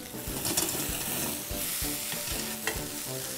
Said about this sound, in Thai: สามารถที่จะใช้ถั่วงอกดิบได้เลยเหมือนกันนะครับตอนนี้ร้อนแล้วนะครับ ลงเลย